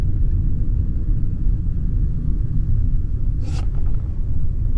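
A vehicle pulling up to collect a big white trailer, heard as a continuous low engine and road rumble from inside, with a brief higher-pitched noise near the end and no talking.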